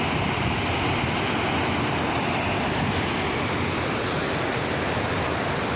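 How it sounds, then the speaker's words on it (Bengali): A steady, loud roar of water gushing through the open gates of the Baharampur dam fills the whole stretch, dense and unbroken, with no voices. "ঝর্ণার মতন করছে, বুঝছেন কত সুন্দর।"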